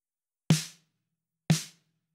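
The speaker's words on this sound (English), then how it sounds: "So your snare top would sound just like this." Two evenly spaced snare drum hits from a Logic Pro X Producer Kit, heard through the top-head mic: sharp, crisp cracks with short decays, each alone in silence.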